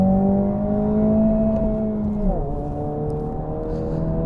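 Honda Civic Si with a 1.5-litre turbo engine, Spoon-customised US-spec model, driving hard on a circuit, its engine droning steadily at high revs with a sharp pitch drop at a gear change midway, continuous and close.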